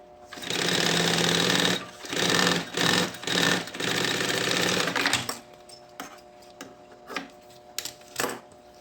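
A sewing machine stitching bias binding onto a backpack pocket, running loud and steady in several bursts with short pauses for the first five seconds, then a few brief clicks and handling sounds as it stops.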